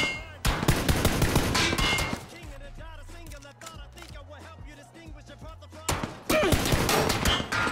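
Bursts of rapid automatic gunfire in PUBG come loud and close at the start and end, with a quieter stretch of rhythmic in-game sounds between them.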